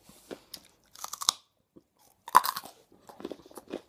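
Someone bites and chews a raw carrot up close, with sharp crisp crunches in separate bursts and quieter chewing in the gaps between them.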